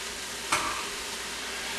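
Strained ground beef for spaghetti sauce sizzles steadily in a pan, a close, even frying hiss with one brief louder crackle near the start.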